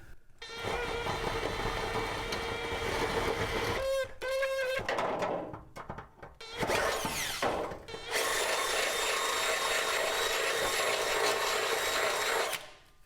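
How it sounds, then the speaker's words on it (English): A power drill with a 17/32 bit whines through a metal frame on a Honda Element in several long bursts, pausing briefly between runs, with some grinding and scraping as the bit cuts. "I've got my 17/32 drill bit, and I'm just going to drill out that hole."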